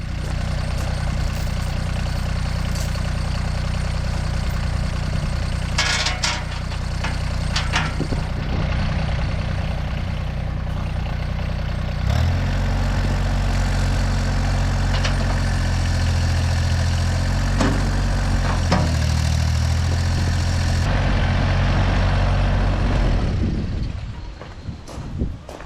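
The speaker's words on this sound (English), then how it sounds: "I'm going to move the tractor over to where the camera is." A tractor engine idles steadily at close range with a low rumble, then rises in pitch and load as the machine moves during stump removal, before cutting off near the end.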